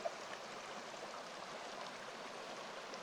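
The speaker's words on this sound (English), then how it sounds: "Plenty of water at this stream crossing." Stream water rushing steadily at a trail crossing of Little Rancheria Creek on a Tehipite Valley backpacking route, a constant soft broadband wash heard alone without breaks.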